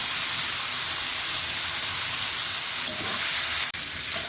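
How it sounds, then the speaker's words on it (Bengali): Banana flower pieces frying lightly in oil in a kadai with a pinch of turmeric make a continuous close hiss, with a brief clatter of a utensil near the end and no voices. "এবার কড়াইয়ের মধ্যে যে তেলটা আছে ওটার মধ্যে মোচাগুলি হালকাভাবে ভেজে নেব"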